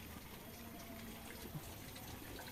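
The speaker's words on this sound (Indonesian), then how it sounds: "Ini pancuran, ini pancuran." Water pours steadily from a village water spout in Kampung Cibeureum, a constant close rushing splash with no breaks.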